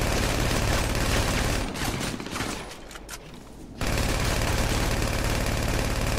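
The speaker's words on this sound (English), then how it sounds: "N's going to be using the combat MG and firing back, so he can lock on to me." Sustained combat MG machine-gun fire in the video game GTA Online: dense, rapid bursts that run almost without a break, loud and close. A short gap midway breaks the firing before it resumes, and no voices are heard.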